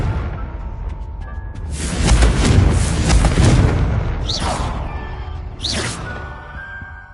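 Fire-blast spell explosions in the Hogwarts Legacy video game: a loud booming blast rumbles for a couple of seconds, then whooshing magical bursts and swishes follow close by over a steady game soundtrack.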